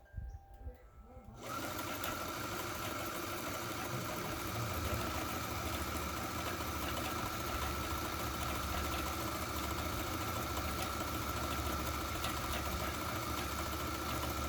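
A New Home Double Duty sewing machine running a satin stitch starts after a quiet moment and hums along in a steady, rapid, close mechanical whir with fine needle chatter, continuing evenly to the end.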